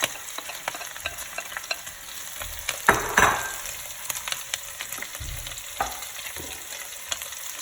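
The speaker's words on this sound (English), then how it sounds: "at this time we're going to start adding in our aromatic vegetables," Onions and garlic sizzling in a hot pan for pea soup, a steady frying hiss broken by stirring scrapes and a few louder clatters, close and with no talk.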